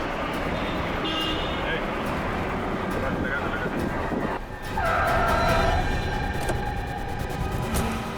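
A car brakes hard and skids to a stop in front of a taxi on a busy street. Heavy traffic noise runs throughout, with a sharp tyre squeal in the second half and voices talking over it.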